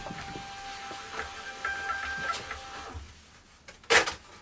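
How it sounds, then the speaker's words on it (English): A thermal printer prints shipping labels for a parcel, giving a steady whirring feed with faint tonal whine for several seconds, then a short louder burst near the end, close and quiet with no talk. "So I'm going to print them. I've got a thermal printer for that job."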